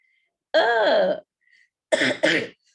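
A harsh, throaty cough close by, followed a moment later by two quick rough coughs in a row, with silence between.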